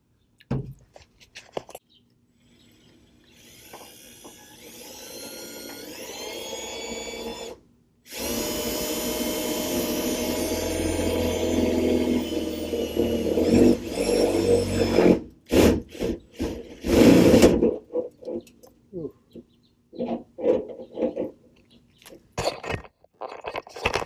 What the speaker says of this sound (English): Perfect little spot where we're going to drill.